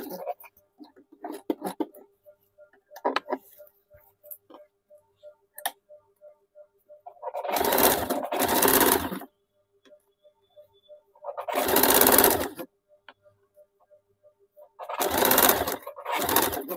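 Sewing machine stitching a petticoat in three loud, steady runs of a few seconds each, separated by quiet gaps with faint ticking and handling sounds.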